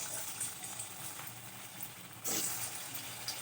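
Jackfruit kofta balls frying in hot oil make a steady, close hiss of bubbling oil with a sudden louder surge as more hit the pan. No one talks over it.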